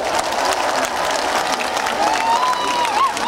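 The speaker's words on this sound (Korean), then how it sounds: "다 같이 큰 박수 한번 보내주십시오" Dense, steady applause from a festival concert audience at a seaside shipbuilding festival in Ulsan, sustained throughout with a faint whistle or cheer rising above it toward the end.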